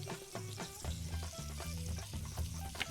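A dosa sizzles and fries on a hot pan in the video game Venba. The frying is a steady, faint crackle layered under soft background music.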